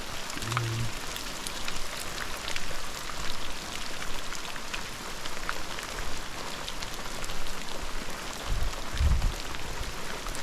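Steady rain falling and pattering on surfaces, a dense continuous hiss with a couple of low thumps.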